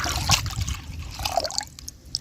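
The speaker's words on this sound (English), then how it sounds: "So in our bowl, I'll go ahead and pour in the milk." Milk pours and trickles into a bowl nearby, a continuous splashing stream with small drips, no talking.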